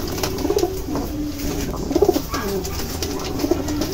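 Pigeons coo in short repeated bursts of low, throaty calls at close range, set among a keeper's collection of racing birds, over steady background noise.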